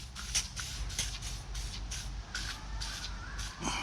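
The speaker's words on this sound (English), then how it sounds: "I'm just going to spray my dozer blade" WD-40 sprayed from an aerosol can onto the rusty dozer blade of a UHI UME 12 mini excavator, a series of short hissing bursts repeating every half second or so over a low steady rumble.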